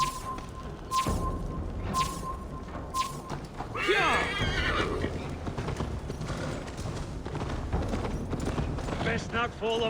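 A horse whinnies loudly and its hooves clip-clop at a gallop during a drunken horse race in Assassin's Creed Valhalla, with game voices talking over the steady hoofbeats and whooshing motion.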